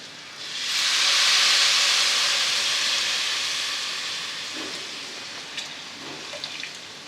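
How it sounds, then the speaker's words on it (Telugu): Tamarind juice poured into a hot pan of bitter gourd curry, a loud sizzling hiss that swells quickly, then fades gradually with a few small bubbling pops near the end. "ఇప్పుడు ఈ చింతపండు పులుసు అంతా వేసుకుందాం"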